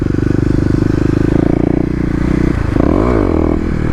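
A Kawasaki KLX250 motorcycle doing a burnout roars loudly and steadily up close, its engine revving hard with a scraping tire edge; the pitch sweeps up and down near the end.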